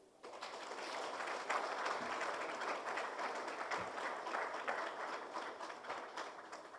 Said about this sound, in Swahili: Makofi machache.